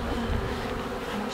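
A dense swarm of bees buzzes loudly and steadily close to the microphone, a continuous thick drone with no pauses and no voices.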